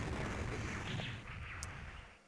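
Dense, steady rapid gunfire fills the scene as a mini boss is shot in the arcade run-and-gun game Blazing Chrome. It stays faint and continuous with no pauses.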